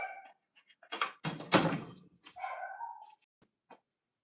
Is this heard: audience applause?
no